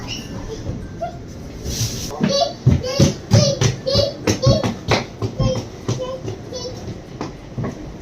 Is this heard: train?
yes